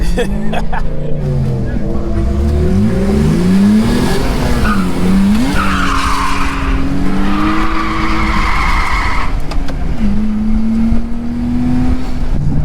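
A rally car engine revs and shifts pitch repeatedly as it drifts down a track, tires squealing and skidding, loud and close throughout.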